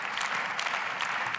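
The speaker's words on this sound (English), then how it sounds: "We're hearing some applause here." Applause fills the German Bundestag chamber at Angela Merkel's final speech, a steady patter of many hands clapping at a moderate distance.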